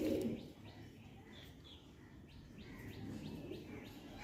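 Pigeons coo softly in a loft set, low murmuring calls continuing steadily with a few faint chirps, moderately near and without talk.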